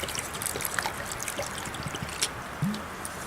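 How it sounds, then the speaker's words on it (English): Water trickles and splashes into a canteen cup holding dehydrated pasta and beef to soak it, a faint, steady pour outdoors with a few small gurgles and clinks. "then get some water in it, just get it soaking just a little bit,"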